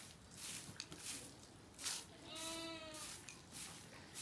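Lambs bleat inside a farm barn, one clear drawn-out cry standing out midway against a steady rustling background, with a few fainter calls around it.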